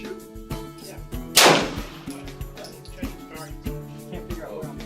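A gunshot at a rifle and pistol club, one sharp loud crack standing out from steady background sound of other people at the range.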